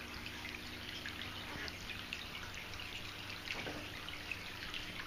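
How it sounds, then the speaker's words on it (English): Soft, steady trickling water from a Buddha tabletop fountain with a cup waterfall, small drips and splashes, a gentle continuous flow heard up close and fairly quiet. "There's a really cool cup waterfall down into a natural cascading effect."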